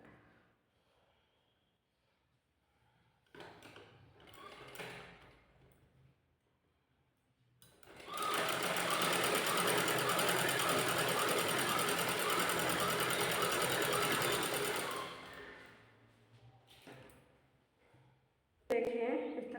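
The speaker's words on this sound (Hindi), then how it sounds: "इस तरह से अटैच करते हुए सिलाई लगाएंगे पहले।" A sewing machine stitches a net fabric blouse in one steady, loud run of rapid mechanical whirring that lasts about seven seconds, framed by quieter handling noises and brief talk before and after.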